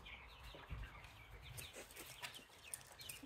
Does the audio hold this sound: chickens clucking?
yes